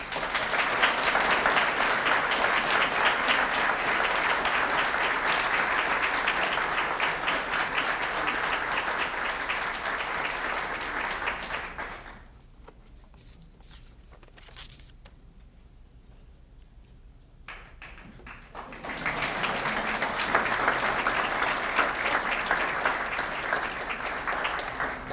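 Sustained applause from an audience at an awards reception honoring chapter members, steady and full for about twelve seconds, dropping to a quiet lull, then swelling again into another loud round of clapping.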